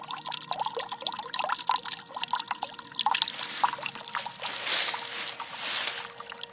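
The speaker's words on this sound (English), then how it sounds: "That's an artesian well. Don't need any electricity. Water runs out of that all the time." Water runs constantly out of an artesian well, a close trickling and dribbling with small splashes and bubbling that swell toward the end, heard on its own without talk.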